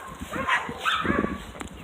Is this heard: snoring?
no